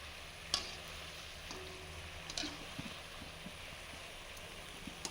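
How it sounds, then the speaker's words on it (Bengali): Bengali gulgulis made from ripe palm fruit deep-fry in oil over a low flame, a quiet, even bubbling fizz with a few sharp pops and light clicks scattered across it. "এভাবে লাল লাল করে সবগুলো গুলগুলি ভেজে নেব।"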